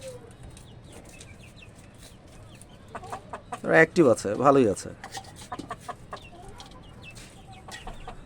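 Desi parent hens in a poultry pen cluck loudly in a short burst of several calls, close by, amid quieter background clucks, with someone speaking briefly over them.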